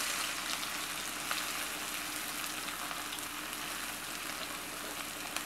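Onions frying in oil for chana masala sizzle softly and steadily throughout, a faint, even crackling hiss with no talking.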